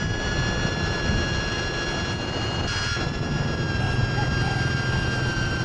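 An FPV drone carrying a mounted Insta360 Go 3 camera flies with a steady, high-pitched motor whine and rushing air that holds constant throughout.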